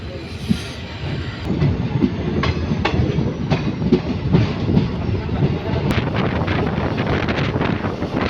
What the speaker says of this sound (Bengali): বঙ্গাইগাঁও স্টেশন থেকে ট্রেন ছেড়ে দিল